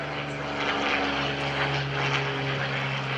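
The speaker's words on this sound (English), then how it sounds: "listen carefully to the sound. That is a V12 liquid-cooled engine built by Allison." An Allison V12 liquid-cooled piston engine on a propeller plane roars steadily and loudly nearby at an airshow, a deep sustained drone with a slight shift in pitch, no talking.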